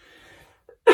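A single sharp, close cough bursts out near the end after a quiet stretch, preceded by a faint brief throat sound.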